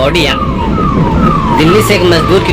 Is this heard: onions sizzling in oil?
no